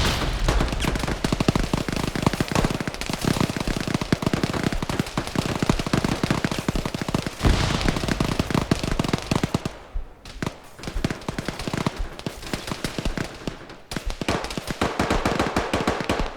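Dense gunfire and grenade blasts from an ArmA 3 firefight, with loud, rapid automatic bursts crackling almost without pause, then a brief lull before the shooting resumes in ragged volleys.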